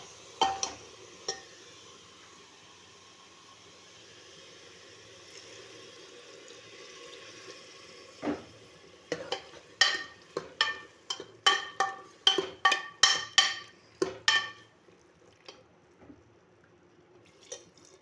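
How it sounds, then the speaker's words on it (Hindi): Water is poured from a vessel into a cooking pot of spiced bottle gourd, starting as a soft steady stream, then breaking into a run of close, sharp splashes and glugs before trailing off. "ਹੁਣ ਆਪਾਂ ਇਸ ਵਿੱਚ ਪਾਵਾਂਗੇ ਪਾਣੀ"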